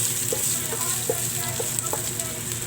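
Sliced onion frying in a pan, a steady close sizzle with light crackles and a few soft stirring knocks, no voices.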